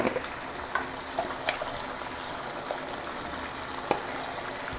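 A Bengali rui fish curry with potato and bori simmers in a pot, giving a soft, steady bubbling hiss with small scattered pops and ticks, fairly quiet and with no voices.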